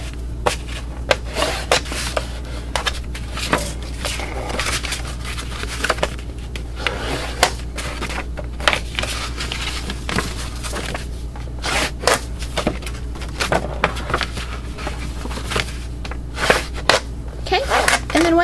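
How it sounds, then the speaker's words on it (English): Paper treat box being folded along scored creases, giving repeated crisp creasing and rustling snaps scattered through a steady low hum, close and fairly loud. "after you've made your scores, you'll just fold across those creases,"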